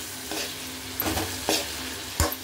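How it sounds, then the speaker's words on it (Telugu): Bottle gourd curry being stirred in a hot pan: a few distinct scraping strokes, four or so, over a low sizzle, the last one sharpest and loudest, with no talking. "బాగా కలుపుకోవాలి"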